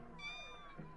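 A kitten meows in The Sims 4, several soft, thin mewing calls drifting over a faint game background hum, fairly quiet and close with no talking.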